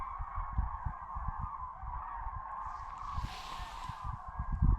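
A huge flock of about a thousand birds flying in V formation near Eisenach calls overhead, a continuous chorus of goose-like honking with rhythmic wingbeat-like pulses, steady and moderately near.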